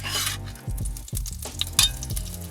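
Minced garlic sizzling and frying in a hot pan, with a steady loud crackle, the clink of a utensil and stirring scrapes, and no talking over it.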